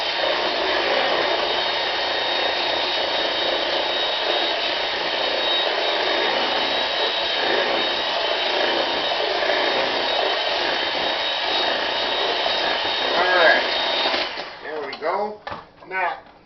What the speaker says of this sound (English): I'm going to mix the eggs and sugar together to incorporate them really good.